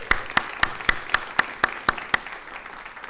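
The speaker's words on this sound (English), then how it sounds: "Can we give them a round of applause for their technical work?" Clapping for the technical crew at a university speaker series event: about nine sharp, evenly spaced claps in a steady rhythm that then trails off into quiet room tone, with no speech.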